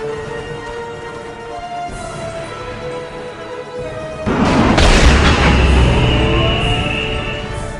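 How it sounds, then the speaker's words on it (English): Weapon fire and explosions in a Warhammer 40,000 Dawn of War Winter Assault cinematic: a low rumble under tonal music, then a loud heavy boom that rolls on with roaring, sustained blast noise. "We're under fire! The Titan's weapons are online."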